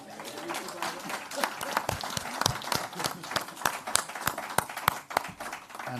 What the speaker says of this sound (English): I think we can give them another round of applause.